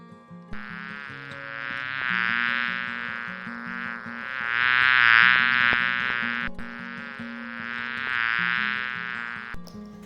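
A continuous bee buzz hums loudly, swelling and fading in waves over a soft background melody, with no voices.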